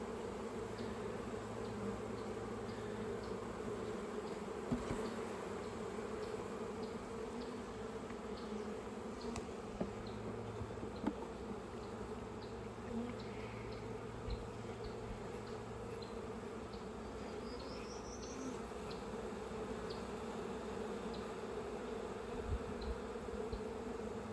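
Honeybees buzz steadily around an open hive during a spring inspection, a dense continuous drone close by with no speech, occasional individual bees passing nearer the ear.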